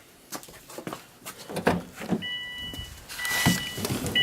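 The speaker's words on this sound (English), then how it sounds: "Then you start the car up." A car engine is started after some clicks and rustling, catching with a rising broadband roar that carries on to the end, along with a faint high electronic tone.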